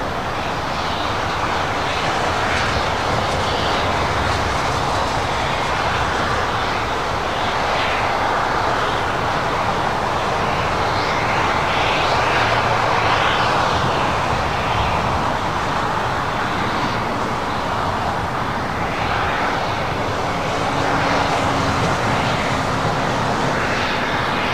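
Jet airliner engines roar steadily at LAX, a continuous broadband rumble that swells and holds throughout as a plane takes off or lands, loud and fairly near with no voices.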